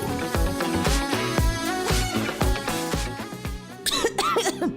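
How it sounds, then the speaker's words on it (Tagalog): Several coughs burst out in a radio commercial over a steady, beat-driven music bed, with a sung or melodic voice rising near the end. "Ubo, plemang nakabara, hirap sa paghinga."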